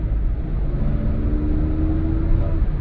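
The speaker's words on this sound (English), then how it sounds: "a slow car that is made fun to drive with this little fruity" Exhaust note of a small, slow Hyundai car with a fruity aftermarket-sounding exhaust system: a loud, steady low rumble and drone recorded close, continuous throughout with no talking over it.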